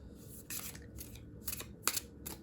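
Crisp bursts of a large oracle card deck riffling through the hands in an overhand shuffle, five or six quick flurries close by with a quiet background.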